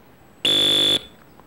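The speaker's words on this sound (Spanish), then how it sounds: "esos pitidos me la sudan" A harsh electronic beep from the 1980s football video game World Cup Carnival sounds once, a loud steady buzzing tone lasting about half a second, then quiet, with no talking.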